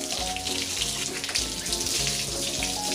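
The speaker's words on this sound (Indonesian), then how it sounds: "Oke, ini untuk merontokkan kotoran ini ya, kita cukup siram aja seperti ini dulur." A water hose sprays hard to wash dung off the floor of a cattle stall, a continuous loud rushing and splashing hiss with slight surges, close up and with no talking.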